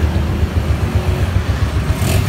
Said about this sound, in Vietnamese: Xe đang nổ máy nha.